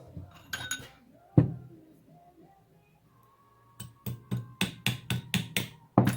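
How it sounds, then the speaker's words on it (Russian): Light metallic taps from a small hammer on a Ford Focus 3 shock absorber strut, a few scattered at first, then a steady series of sharp clinking strikes near the end, with faint rustling in between. "Я обычно молоточком немножко постучу."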